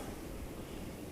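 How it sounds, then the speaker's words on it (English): Low, rumbling wind buffets the microphone outdoors during BMW valve cover gasket work, a muffled continuous roar with no voices, brief and fairly quiet. "I apologize for the wind. It's windy as hell out here."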